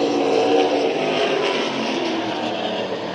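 Race cars roar steadily around the track at Orange Show Speedway during a trophy dash, a loud continuous engine drone from a short distance with no talk over it.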